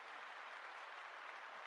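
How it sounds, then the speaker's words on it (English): A round of applause rings out for the audience, a dense, even wash of clapping at moderate volume with no voices over it. "Give yourselves a round of applause."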